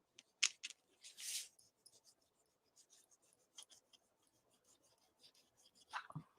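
A pencil is sharpened with quick scraping, rasping strokes in a quiet room, faint and close, with short bursts separated by pauses.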